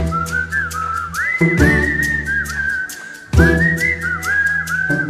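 Whistling from a Hindi film song carries a bright, sliding melody over the music, with a brief pause midway before the tune resumes.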